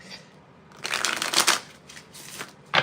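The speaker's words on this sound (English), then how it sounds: "Oh, my stained glass tarot don't want to shuffle." Stained glass tarot cards being shuffled by hand, a few quick riffling bursts of crisp papery flutter close up, separated by short pauses.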